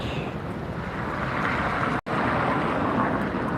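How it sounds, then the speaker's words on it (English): A US Airways retro-livery American Airlines Airbus A321 jet at LAX produces a steady, loud, broad roar of engine and wind noise, briefly cut by a short dropout midway. "It's the U.S. Airways retro livery American A321."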